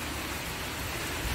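Heavy rain pouring down outdoors, a dense, loud, continuous wash of noise with no pauses and no voices.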